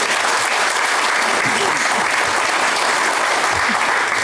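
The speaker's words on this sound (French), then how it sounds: "je pense qu'on peut l'applaudir" Steady, dense applause from an audience at a New Year's greetings event in Badefols-d'Ans, honouring a 91-year-old; even and sustained throughout, with no speech over it.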